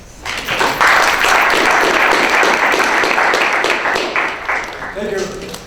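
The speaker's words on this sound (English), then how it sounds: "Give him a round of applause." An audience breaks into loud, sustained applause that swells quickly and then tapers off, with a voice coming in near the end.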